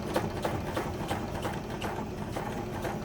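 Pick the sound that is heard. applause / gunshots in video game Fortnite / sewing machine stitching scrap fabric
sewing machine stitching scrap fabric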